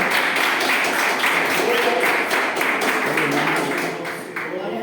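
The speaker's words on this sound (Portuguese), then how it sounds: "com as palmas levemos ao Senhor" A church congregation clapping in praise, sustained rhythmic applause from many people filling the room, loud and even before tapering slightly at the end.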